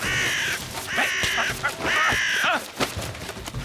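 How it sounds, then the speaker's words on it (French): A cartoon crow caws loudly nearby, several harsh drawn-out calls in a row, with brief gaps between them. "Corbeau!"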